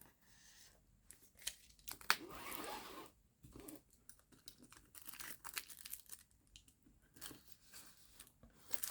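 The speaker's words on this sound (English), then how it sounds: "I'm gonna try to carefully cut along the line right here" Cellophane plastic wrap on the box of a QRD Vortex F5 retro handheld game console is cut close up. Short scissor-like snips alternate with crinkling and tearing plastic in irregular bursts, with quiet pauses between.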